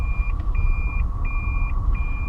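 A 2014 Toyota Prius Plug-in, silver with 112k miles, sounds its reverse warning beep: clear, evenly spaced electronic tones repeating about every half second over a steady low engine-cabin rumble.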